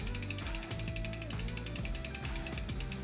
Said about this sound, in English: you can pedal and shift it like a real bike